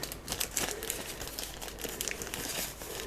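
Plastic packets for a Motikom Bluetooth helmet intercom kit crinkle and tear open in continuous close, loud rustling bursts, with no talking.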